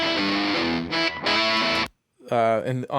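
Electric guitar chords and notes played through a Fender Princeton Reverb clone amp with a slightly crunchy, driven tone, a brief silent pause, then more playing.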